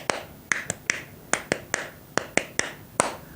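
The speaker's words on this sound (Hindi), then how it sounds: "आप रगड़ करने के बाद थोड़ी सी आप इसको तालियां दीजिए" Fingers are clapped against fingers after rubbing, producing about a dozen sharp, crisp taps in an uneven rhythm, close and distinct against a quiet background.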